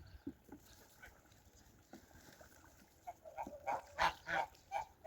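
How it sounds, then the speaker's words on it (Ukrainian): A gander splashes water in a basin in soft scattered bursts that grow louder and more frequent toward the end, with faint background noise. "гусак там в тазіку кидає воду."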